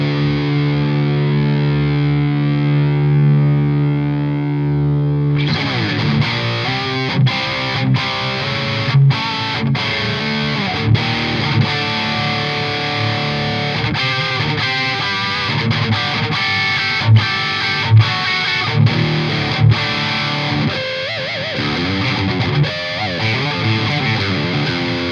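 Distorted electric guitar through a Friedman Jose Arredondo amp: a sustained gainy chord rings out, then a busy riff of chugging palm-muted notes and accented stabs plays loud and upfront, no talking.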